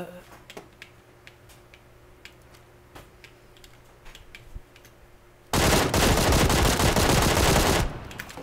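PUBG gameplay on a PC build with an i7-8700 and RTX 2060: faint scattered taps and clicks give way to a loud, sustained burst of rapid automatic gunfire lasting a couple of seconds.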